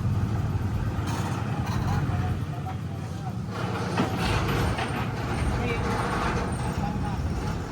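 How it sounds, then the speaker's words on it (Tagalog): A large truck rumbles in nearby at a pig farm with steady engine drone and road noise, a brief hiss like air brakes, while people talk over it. "papasok na yung truck"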